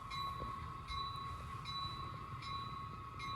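An HO scale model train runs steadily on its tracks with a continuous whine and a rhythmic, evenly spaced clicking of wheels over rail joints.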